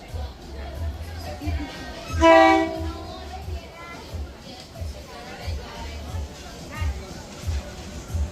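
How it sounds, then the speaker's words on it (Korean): A train rolls slowly into a rural station in Thailand, its horn sounding once loudly near the start amid a low rumbling engine, with people chattering nearby. "기차가 오고 있음동 나와보셈 엄청 느리게 온다"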